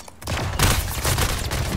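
A shotgun fires in the arena shooter Splitgate, with several loud, close blasts in quick succession over dense, steady gunfire noise.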